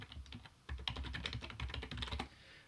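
Keys on a computer keyboard are tapped in a quick, irregular burst of close, soft clicks that quiet down briefly near the end.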